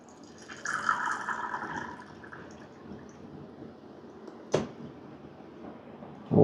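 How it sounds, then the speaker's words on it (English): A Sonic S7 manual lever espresso machine flushes water through its group head, a soft steady gush and trickle that fades, followed by a sharp clack and a final knock. "We have to flush the group to keep it warm. So now let's push out the water."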